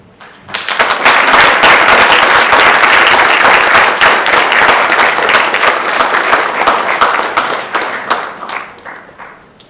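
Loud, dense applause from an audience at a student government meeting, rising quickly and holding steady with crowd noise before thinning into scattered claps at the end.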